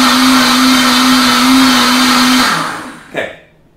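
A blender pureeing butternut squash soup runs loud and steady with a high motor whine, then spins down and stops with a brief clunk at the end.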